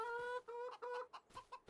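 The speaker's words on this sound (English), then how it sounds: "Check on our chickens here. Look at the little baby chickens." Chickens in Farming Simulator 25 cluck in a short run of close, bright, tonal calls, with a few quick clucks trailing off at the end and no talk.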